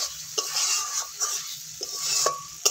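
Stirring thick banana flower curry (mochar ghonto) mixed with crushed Gobindobhog rice in a pan, a steady broadband sizzle with several soft scraping strokes of the spoon, close and alone.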